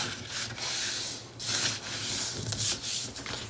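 Paper being folded and creased by hand while building an album hinge, close rustling and rubbing in several uneven strokes with no talk.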